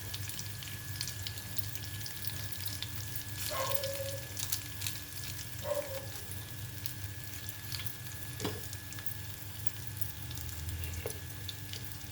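Garlic, curry leaves and dried red chillies fry in oil with a steady soft sizzle, close by, marked by a few brief clinks and stirring touches; no one speaks.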